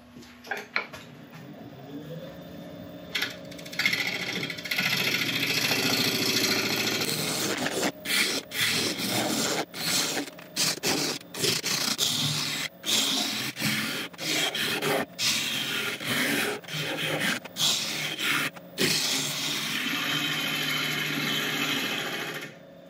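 Woodturning tool being sharpened after working a very hard elm bowl blank, heard as repeated metallic grinding and rasping strokes in short bursts, fairly close and steady with brief pauses between passes.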